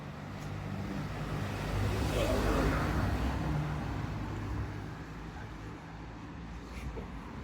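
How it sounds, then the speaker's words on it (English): Steady road traffic on a busy stretch of street in Sidari, Corfu, with several cars rolling past close by in a continuous broad rumble that swells in the middle and eases off, with light wind noise. "that section of road, it got super busy. A load of cars came at the same time"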